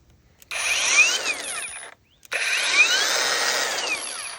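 A Mellif cordless angle grinder powered by a DeWalt 20V Max battery whirs in two bursts, spinning up to a steady high-pitched whine, cutting off briefly, then running again. The sound is close and loud, with no voices.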